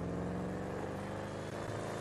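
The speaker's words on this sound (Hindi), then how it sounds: "तो आपको इसकी गाड़ी की आवाज़ दिखाऊँगा" Engine of a modified old car, a continuous low droning rumble that holds a steady level throughout, close and loud, without speech.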